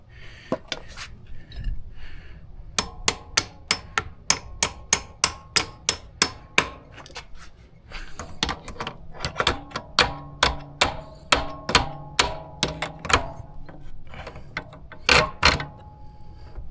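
Tools work loose a nut on an e-bike's rear shock, making a long run of sharp, evenly spaced metallic clicks and taps with a faint ring. The bursts pause briefly partway through, and no one speaks.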